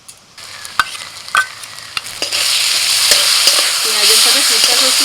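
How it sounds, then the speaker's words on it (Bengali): Sesame paste ground with green chillies goes into half-fried onion in hot oil. A few utensil clinks come first, then a loud, steady sizzle rises and holds close by. "এবার তিল দিয়ে দিচ্ছি।"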